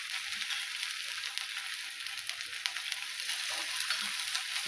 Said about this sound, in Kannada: ಈಗ ಹಾಕ್ತೀನಿ ನೋಡಿರಿ ಹಂಚಿಗೆ. ಈಗ ನೋಡಿರಿ ಹಾಕಿದ್ದೀನಿ ರೀ. ಇದಕ್ಕೆ ಸ್ವಲ್ಪ ಎಣ್ಣೆ ಹಚ್ತೀನಿ ನೋಡಿರಿ ಮ್ಯಾಗ.